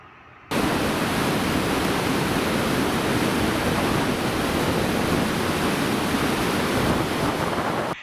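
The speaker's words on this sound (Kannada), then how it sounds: "ಅಣೆಕಟ್ಟೆಗೆ ಇಷ್ಟೊಂದು ಪ್ರಮಾಣದ ನೀರು ಹರಿದು ಬಂದರೂ ಬಹುಪಾಲು ಆಂಧ್ರದ ಪಾಲು ಹರಿಯುತ್ತಿದೆ" Floodwater overflows and rushes from the Rajalabanda dam, a loud, steady, broadband roar that fills the whole clip without pause and with no voices.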